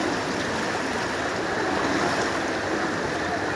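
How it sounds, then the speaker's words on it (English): Steady rushing floodwater flows continuously through businesses after heavy rains in Garissa town, Kenya, a broad unbroken roar with no voices, fairly close and even in level. "Water is going through businesses, my friends."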